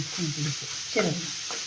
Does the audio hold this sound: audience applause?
no